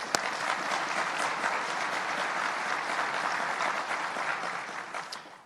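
Audience applause at a Baylor University gathering, a steady dense wash of clapping from a large crowd that holds for several seconds without talk, with a sharp clap or knock near the start.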